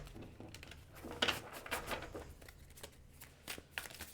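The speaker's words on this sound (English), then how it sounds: "I'm going to go ahead and I'm going to pull some additional cards here." Tarot cards being shuffled and drawn during a reading, a close, soft, continuous riffling and sliding of card stock with a few sharper flicks, fairly quiet and with no talking.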